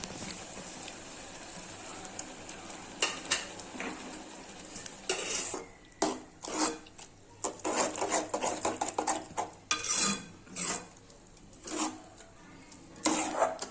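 Boiled gongura leaves being stirred into a prawn curry in a metal pan, giving a steady run of scraping and clinking spoon strokes against the pan with a soft background sizzle, close and moderately loud, with no talking.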